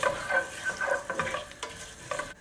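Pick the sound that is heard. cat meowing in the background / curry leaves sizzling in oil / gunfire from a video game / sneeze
curry leaves sizzling in oil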